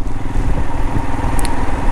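A Royal Enfield Himalayan 411 motorcycle engine thumps in a steady low rhythm while riding on wet roads, close to the microphone, with some wind and road noise around it.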